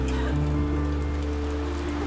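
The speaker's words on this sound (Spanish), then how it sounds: "Está lloviendo, como siempre en Moscú." Rain falls over Moscow as a steady, close, even hiss with a low rumble beneath, continuous across the whole stretch.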